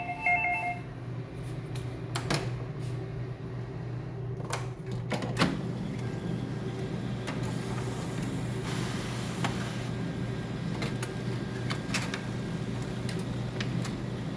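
An HP LaserJet 2055 laser printer runs a job fed from its lower paper tray, giving a steady mechanical hum with a few sharp clicks and clunks early on, close by and continuous.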